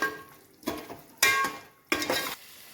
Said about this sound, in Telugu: కొత్తిమీర వేసి మంచిగా కలపాలి.